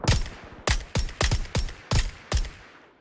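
Gunfire in the PUBG battle royale game, seven sharp loud shots in an uneven burst over three seconds, each with a short decaying tail and no talk.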